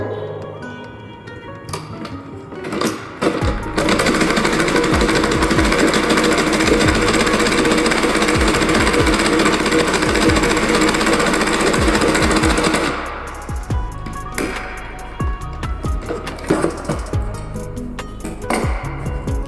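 A tailoring sewing machine runs steadily after its thread tension has been adjusted, a loud continuous mechanical whir with rapid ticking for about nine seconds, preceded and followed by scattered clicks and handling noises.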